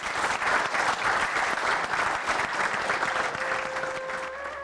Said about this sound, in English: As the applause ended